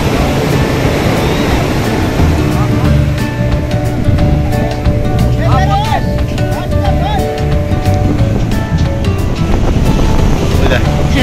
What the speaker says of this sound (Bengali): সমুদ্রে যা গর্জন শুনছি আর যা বড় বড় ঢেউ দেখছি